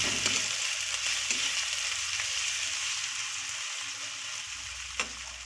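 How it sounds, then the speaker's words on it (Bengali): Chopped onion, ginger and garlic fry together in a pan with a steady, close hiss. A few soft stirring scrapes punctuate the sizzle. "পেঁয়াজ আদা রসুন সবগুলো একসঙ্গে ভালোভাবে একটু ফ্রাই করে নিয়েছি"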